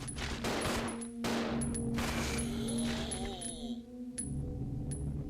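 Gunfire rings out in the survival-horror video game Resident Evil Zero as a few sharp shots and clattering impacts over a low ambient hum.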